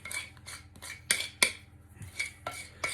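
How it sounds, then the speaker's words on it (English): A spatula scrapes sponge cake mix out of a heavy mixing bowl, giving a series of close, uneven scrapes and sharp clinks against the bowl's sides, with short quiet gaps between strokes. "So just make sure you scrape all the mix out of that bowl"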